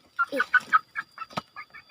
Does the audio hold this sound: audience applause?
no